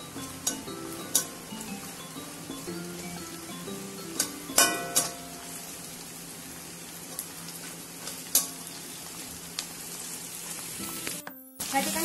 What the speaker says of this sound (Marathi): तर मी थोडस आता जे वाटाणा आहे तो वाटाणा परतून घेते त्याच्यामध्ये.